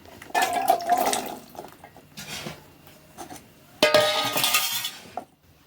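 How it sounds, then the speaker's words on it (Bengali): Water splashes and pours into a pot holding raw green mangoes in a home kitchen, arriving in short bursts separated by quieter gaps with faint clinks of metal, close and fairly clear. "দিয়ে দিলাম জল জলের মধ্যে আমগুলো দিয়ে দেব"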